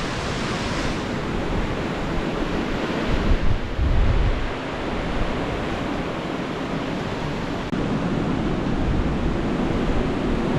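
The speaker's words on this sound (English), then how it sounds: "Still really windy." Strong storm winds of up to 67 mph blow through woodland with snapped trees and fallen branches along a path, a loud, constant roar with heavy gusts buffeting the microphone, and no voices.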